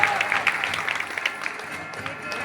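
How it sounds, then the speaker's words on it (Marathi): An audience at a religious gathering in a village claps together, a dense, moderately loud patter of applause running throughout with a voice faintly mixed in. "सर्वांनी एकदा टाळी वाजवा"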